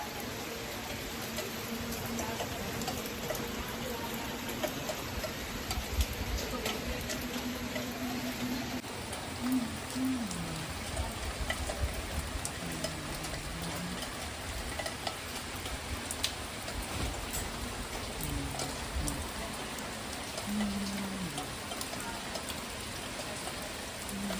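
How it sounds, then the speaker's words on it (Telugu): Heavy rain pours outside, a dense, steady patter and hiss throughout, with faint intermittent lower tones from the surroundings and no clear talking. "వర్షం అయితే బీభత్సంగా పడుతుంది"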